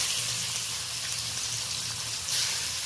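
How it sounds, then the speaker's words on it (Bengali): Pieces of fish frying in hot oil for a tangy mango fish dish, a steady, moderately quiet sizzling hiss with a low hum beneath, a brighter burst of crackle near the end, no talk. "এবার মাছের পিসগুলো আমি তুলে দিচ্ছি ভেজে নেওয়ার জন্য।"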